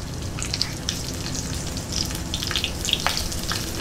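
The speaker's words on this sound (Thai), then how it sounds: "เอาพริกสดอะค่ะลงทอดด้วยเลย" Fresh chilies frying in hot oil give a steady, close crackling sizzle with scattered sharp pops, unbroken and without voices.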